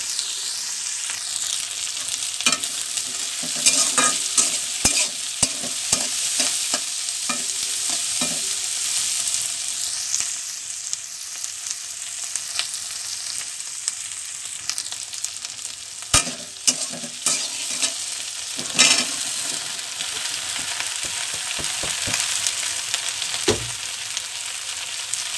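Vegetables for a rohu fish curry sizzle and fry in a pan while a spoon scrapes and stirs them in irregular clattering bursts, steady crackle underneath throughout, with no talking.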